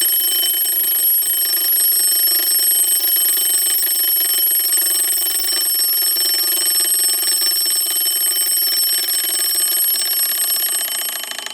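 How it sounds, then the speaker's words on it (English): The alarm of an 1898 Seth Thomas kitchen clock rings continuously, a loud, close, rapid metallic bell that holds steady for more than ten seconds. "that's how the alarm works, and it went off at about 10 after 7."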